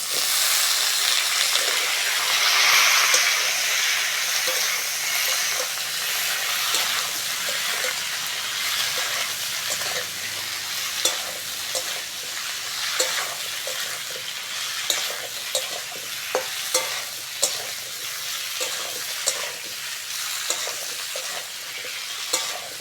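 Raw banana and pointed gourd hit hot oil in a pan where potatoes were already fried, giving a loud continuous sizzle close up, with spoon scrapes and taps growing more frequent toward the end.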